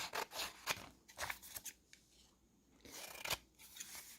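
Scissors cutting paper for a Halloween pocket journaling card, several close crisp snips in short bursts separated by brief pauses, with no talk.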